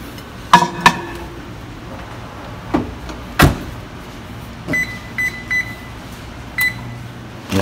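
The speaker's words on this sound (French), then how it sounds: "je passe tout ça au micro-ondes pendant 2 minutes" A kitchen microwave heats a bowl of oat flakes in cashew milk. A few sharp door clunks are followed by a run of short electronic beeps, with faint background hum and no talking.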